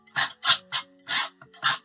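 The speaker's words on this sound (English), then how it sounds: "I just scrape it off, and I like impasto paint," A painter scrapes stray brush hairs off thick impasto paint on a canvas, six short, rasping scrapes in quick, uneven succession, close and distinct against quiet.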